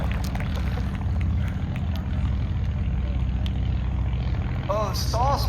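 Propeller aircraft, a Stinson L-5 Sentinel and a Fieseler Storch, fly at an air show demonstration, with a steady engine drone in the background and people talking over it throughout.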